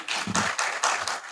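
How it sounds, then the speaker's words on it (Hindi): Audience applause at a public gathering of an all-India bank employees' federation, a short burst of dense clapping filling the hall, loud and steady with a few sharper claps standing out. "जोरदार तालियां उनके लिए।"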